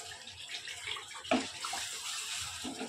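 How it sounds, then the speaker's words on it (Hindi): Water poured into fried masala in a pot while making Hyderabadi bagara khana khorma gravy, a soft continuous splashing and trickling heard close up, quiet and steady with one brief louder splash. "इसमें थोड़ा सा पानी ऐड करूँगी मैं ग्रेवी के लिए"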